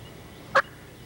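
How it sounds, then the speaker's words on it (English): A single short wild turkey yelp during a spring turkey hunt, a brief clear call standing alone over quiet outdoor background. "And there goes Jones yelping at him."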